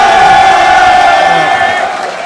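A crowd at an opening ceremony roars and cheers loudly and continuously, with shouts and whoops blending into a dense wall of noise that fades slightly at the end.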